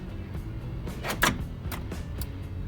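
Power door lock actuators clunking inside the doors of a Porsche 924/944: a few short mechanical thunks and whirs, one sharper and louder, over a low background hum.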